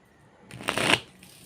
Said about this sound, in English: And we're going to shuffle it again.